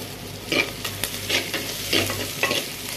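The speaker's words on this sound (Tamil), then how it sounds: "வெங்காயத்தை சேர்த்து நல்லா வதக்கி விட்டுக்கலாம்." Onions sauté in a pan for a brinjal and drumstick sambar, a steady close sizzle broken by periodic scraping stirs roughly every half second.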